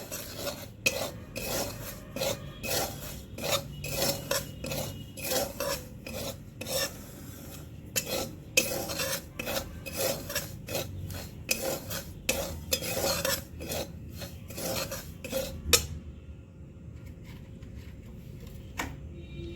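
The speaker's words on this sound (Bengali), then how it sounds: "সুজিটাকে শুকনো এতে ভেজে কড়াইয়ে ভেজে নেব" Semolina dry-roasting in a wok with a spatula scraping and stirring in steady repeated strokes, close and clear, no voices, the scraping stopping near the end.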